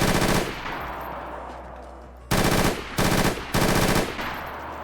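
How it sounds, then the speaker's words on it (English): An M249 SAW fires full auto in the video game DayZ, loud and close, in one long opening burst followed by three more sustained bursts of rapid gunfire separated by brief gaps. "fully animated M249 saw in DayZ."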